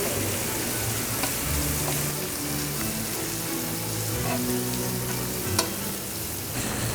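Steady sizzling of frozen pork belly frying in a pan, a continuous crackling hiss with occasional small pops, close by and moderately loud, no talking.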